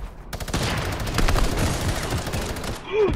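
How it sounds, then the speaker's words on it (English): Heavy Fortnite gunfire rattles in rapid overlapping bursts, loud and close, with a brief voice rising at the end. "Guys, help, I'm being shot at."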